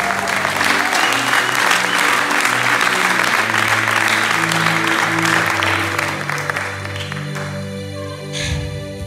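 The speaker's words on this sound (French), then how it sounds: "Est-ce que tu peux acclamer pour la gloire de Dieu?" A church congregation at a Sunday service breaks into sustained applause and cheering, dense clapping filling the room with sustained musical tones underneath, fading somewhat near the end.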